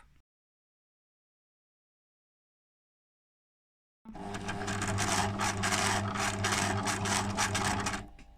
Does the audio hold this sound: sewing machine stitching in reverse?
yes